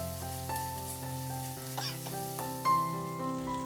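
Potatoes frying with green chili paste in oil, a soft steady sizzle with stirring under a sustained musical background, fairly quiet and without speech.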